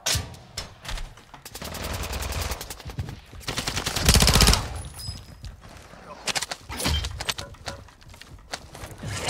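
Bursts of automatic gunfire and single shots ring out in a Call of Duty Warzone 2.0 Resurgence quads match, with a loud sustained volley near the middle, while players talk over the action.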